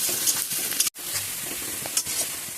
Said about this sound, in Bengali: পেঁয়াজ কুচিটা একটু লাল লাল করে ভেজে নেবো।